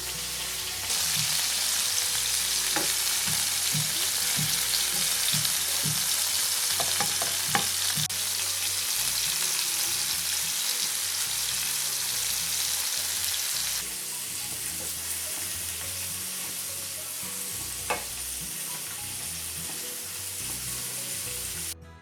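Paneer tikka grilling in a pan sizzles and fries steadily throughout, with occasional soft taps and stirring clicks over a constant hiss and no voices.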